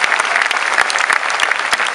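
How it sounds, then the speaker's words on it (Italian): Close, dense clapping rings out at a band presentation for an upcoming tour. The sound is a steady, lively patter of many hands with no break over its short span. "Io gli faccio un applauso da lontano."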